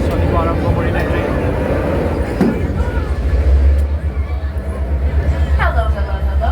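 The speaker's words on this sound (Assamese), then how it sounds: "চলিব আৰম্ভ কৰিলে ট্ৰেইন" A Stone Mountain Park train in Atlanta pulling away, its steady low rumble building under a busy crowd of voices, with a brief whistle-like tone and people chatting nearby.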